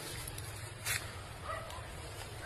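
A dog gives a short yip and soft whimpering over a steady low rumble of background noise, with a brief sharper bark-like burst near the middle.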